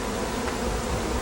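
Thousands of honeybees fanning their wings at a hive, about 80,000 strong, make a steady, close droning hum that runs continuously without any speech.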